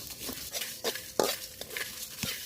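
Three kinds of packaged whole spices dry-fried for an olive pickle are stirred in a pan, making short scraping and clinking strokes in a quick, uneven rhythm over a faint sizzle.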